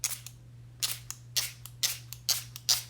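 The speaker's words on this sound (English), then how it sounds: "If I can find my spray bottle." Short hissing bursts from a hand spray bottle misting water onto a loose, impressionistic line-and-wash watercolor painting, about seven quick sprays in an uneven rhythm, close and fairly loud with no talk.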